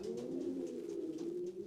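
Domestic racing pigeons cooing in a loft during pairing, a soft low continuous rolling coo with faint background chirps, quiet and close.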